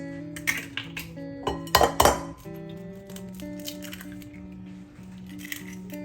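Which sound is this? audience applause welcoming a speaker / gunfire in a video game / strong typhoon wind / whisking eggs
whisking eggs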